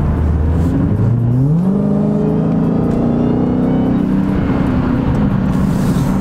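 A Dodge Hellcat V8 with its mid-muffler deleted revs loudly and close up, the pitch sweeping upward and then holding as a steady high drone, with no talking.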